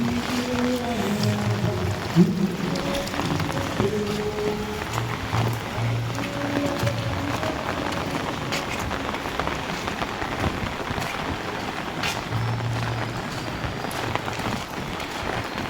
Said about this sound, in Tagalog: walang tigil lang ulan guys